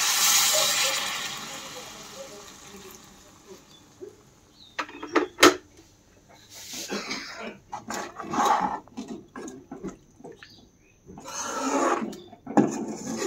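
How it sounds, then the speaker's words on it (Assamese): Hot water poured into a sizzling pan of chicken curry with rice flour, releasing a burst of hissing steam, followed by clattering utensils and scraping against the pot, close up with no talk. "আৰু এতিয়া মই অলপ গৰম পানী দি দিছো"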